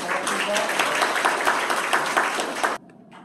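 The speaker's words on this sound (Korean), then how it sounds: "환영의 박수 부탁드리겠습니다" A seminar audience gives welcoming applause in a hall, steady dense clapping that carries on for a few seconds and then cuts off abruptly, leaving a quiet room.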